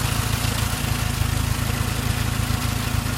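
An older car engine with carburetors idles steadily, a dense, continuous low rumble with even pulsing that stays loud and close throughout, with no voices over it.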